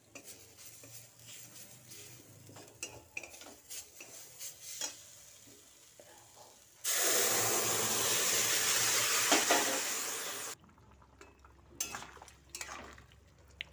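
Winter vegetables tipped into a pan of frying spice paste, with clinks and scraping stirs before a loud steady hiss of sizzling for several seconds, then quieter stirring and utensil taps.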